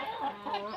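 Native breed chickens on a farm give a brief, quiet tonal cluck, a single short call with no talk over it.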